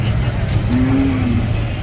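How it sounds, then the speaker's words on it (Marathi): A calf at a village cattle fair lets out one drawn-out low moo over a rumbling crowd and engine background. "इथे वासर आहे इथं हे वासर आहे"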